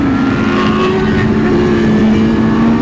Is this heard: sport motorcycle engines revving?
yes